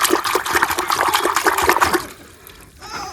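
Water splashes and gushes over fresh tilapia fish in a choppy, close pour for about two seconds, then tapers off to a faint trickle.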